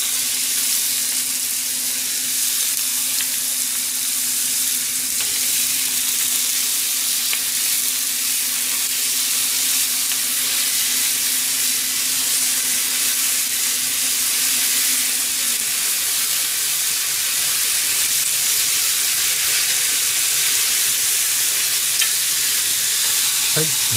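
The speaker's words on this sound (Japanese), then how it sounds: "一回この油でくるっと回してやったら少し持ちましょうかね。" Bean sprouts and bok choy stir-fried in oil, giving a loud, steady, hissing sizzle that runs unbroken throughout, with faint stirring beneath it.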